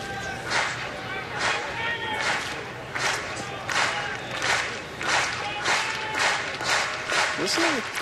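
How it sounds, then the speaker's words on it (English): A packed ballpark crowd at a Mets–Tigers spring game claps in steady rhythmic bursts, roughly two per second, a distant roar of applause building to urge a player on, with talk underneath. "Listen to the crowd giving the old applause to get him going."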